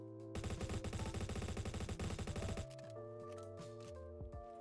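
A Honey Badger rifle fires in the Roblox shooter Bad Business: a loud, fast, even burst of automatic shots that stops abruptly, followed by quieter game tones.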